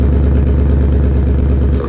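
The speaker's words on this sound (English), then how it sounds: "Out on the road, select Sport or Racetrack when you want to hear your V8 roar again." Ford Mustang GT V8 with active exhaust in Sport or Racetrack mode gives a loud, steady, deep engine roar that holds throughout and eases slightly at the very end.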